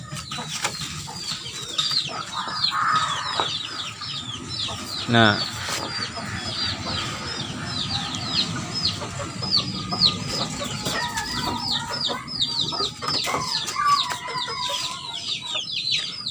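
Hens and small chicks cluck and cheep inside a simple chicken coop, with steady high peeping from the chicks over lower clucking and an occasional louder call. A person speaks briefly among the birds.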